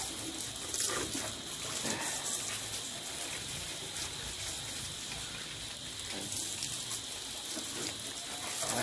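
Low-pressure water rinsing a red Honda CB650R motorcycle, a soft continuous splashing and trickling hiss that stays fairly quiet and steady, with faint outdoor background sounds.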